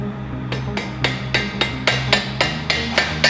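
A rawhide mallet taps a pin through during assembly of a spring-assist manway on a tank, striking about twelve times in a steady rhythm of close, sharp knocks over a low mechanical hum.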